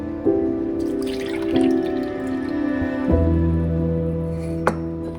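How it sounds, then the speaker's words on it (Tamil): Curd and then milk pour into mashed rice in a few close liquid streams, each a tonal gurgle that shifts pitch as it fills, ending in a small drip. "நெக்ஸ்ட்டு தயிர் ஊற்றணும். நெக்ஸ்ட்டு பால் ஊற்றணும்."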